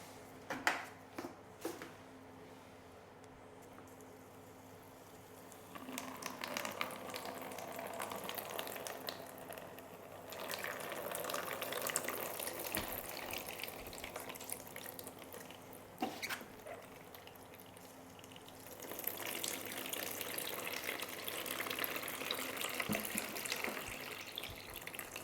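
Water pours steadily onto the soil of a freshly repotted variegated Alocasia chantrieri in its pot, a soft continuous splashing and trickling with quiet pauses between pours and no talking.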